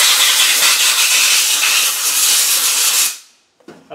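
Brake cleaner aerosol sprays in one loud, steady hiss onto aluminium engine parts during a Land Rover 300Tdi rebuild, then cuts off, followed by a few faint clicks.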